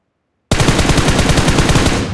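Rapid automatic gunfire from the battle royale game BGMI erupts suddenly and loudly after a brief silence, a fast, even burst of repeated shots lasting under two seconds with no voices.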